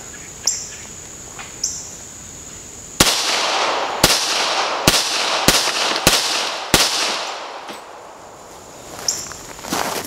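Sharp gunshots from a Dan Wesson 1911 pistol at an outdoor range, about seven loud reports in quick irregular succession, with a few faint clicks and outdoor chirping before and after.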